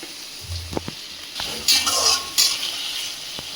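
Onion and chopped green chili frying in a pan, a low sizzle broken by spoon clatter and scraping, with brief louder hissing bursts near the middle, no talk.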